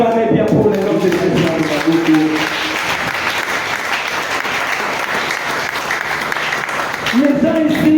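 Congregation at a Friday worship service applauding loudly and steadily for the name of Jesus, a dense sustained clapping with cheering voices, while a preacher's voice rises over it at the start and again near the end.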